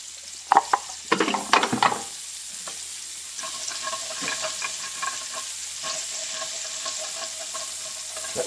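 Onions sizzle steadily in a frying pan while a utensil scrapes and stirs, with several sharp clatters early on before the frying settles into a soft, even crackle, heard close with no talk.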